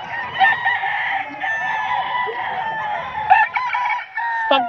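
Young Kalidong gamefowl stag crowing loudly and close, several strained cock-a-doodle-doo calls running back to back with a few clucks mixed in.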